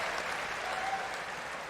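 Applause from the crowd at a 2024 US Open tennis match follows a passing shot up the line, a steady, moderately distant clatter of clapping that fills the whole short moment.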